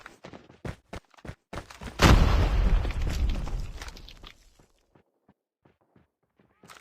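A grenade goes off in a video game: a sudden heavy boom that rumbles and fades over about two seconds, coming after a run of quick footstep-like taps.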